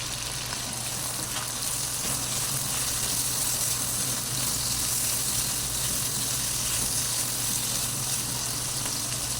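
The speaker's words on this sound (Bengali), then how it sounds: "এই পেঁয়াজগুলোকে বেরেস্তা করে নিচ্ছি" Cubed onions fry steadily in hot oil for a baim fish bhuna, a loud, continuous sizzle close up with no talking.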